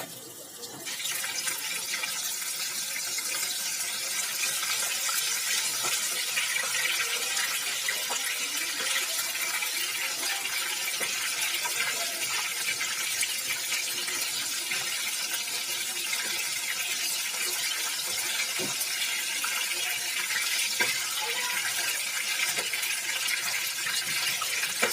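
Chicken pieces fry in hot oil with a dense, even hiss that holds steady and fairly loud for the whole stretch, with no talk over it.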